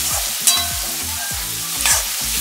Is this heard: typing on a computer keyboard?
no